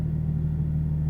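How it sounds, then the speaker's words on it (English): A BMW M4 idling in Sport mode: a steady, low, even exhaust rumble with a constant drone, close and unbroken, no voices. "especially if you like that increased exhaust sound, definitely the Sport and Sport Plus"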